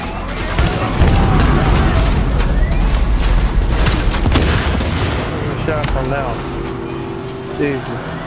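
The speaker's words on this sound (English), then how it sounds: "Who are they shooting at?" Sustained loud gunfire from The Division, dense overlapping bursts of automatic shots during a firefight, with voices talking over the shooting before it thins out.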